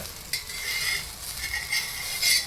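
Sabudana besan pudla fries in oil on a hot pan, giving a steady, close sizzle with a few light scraping touches and no voices.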